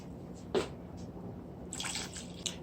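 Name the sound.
water pouring into a pot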